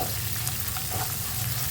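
Onion and curry leaves frying in oil produce a steady, close sizzle with a soft undertone of stirring, short and unbroken.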